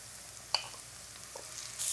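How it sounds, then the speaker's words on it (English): Onions and chorizo fry in a pan for red enchiladas with a soft, steady sizzle, one sharp tick near the start and a brief hiss swelling toward the end, close but quiet, no voices. "We'll get some color on those onions for a minute, and we'll add that chorizo in as well."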